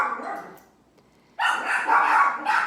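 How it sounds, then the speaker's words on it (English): A faint yip, a brief lull, then a burst of loud, close dog barking, several sharp barks in quick succession. "it's like these dogs barking. They are not gonna stop until I let them bark"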